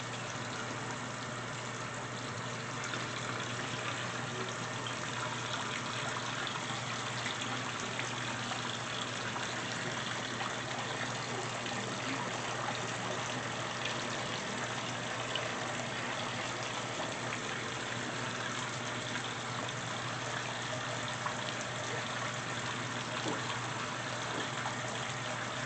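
A GE washer tub turning to wet the clothes during a normal cycle produces a steady, moderate watery swish and hum that continues unbroken throughout, with no voices.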